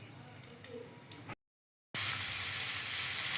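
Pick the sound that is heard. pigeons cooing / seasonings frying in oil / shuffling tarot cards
seasonings frying in oil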